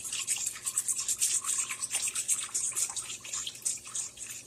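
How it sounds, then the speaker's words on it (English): Beef broth is whisked into a pan for a pork roast dinner, making quick, bright swishing and light scraping strokes at close range in a fast, steady rhythm with a wet, liquid edge and no speech. "this beef broth, and I am whisking it as I stir it in."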